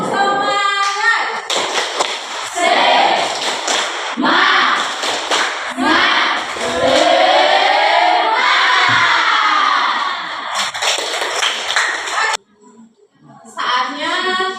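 A classroom group of children performs a rhythmic spirit clap, loud close claps in patterned bursts mixed with chanted shouts, with a brief pause before a final round.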